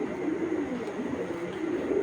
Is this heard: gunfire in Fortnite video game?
no